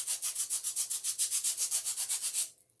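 Lower-grit sandpaper rubs a handmade faux gumdrop in about seventeen quick, even back-and-forth strokes, close and soft, then stops abruptly.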